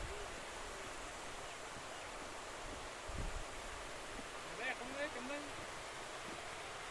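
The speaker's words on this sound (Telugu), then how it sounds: "చూడండి ఎంత బాగుందో వాటర్ ఫాల్" Steady broadband rush of Tadigada waterfall near Ananthagiri, heard from above, constant and continuous for the whole stretch, with a brief voice and faint chirps partway through.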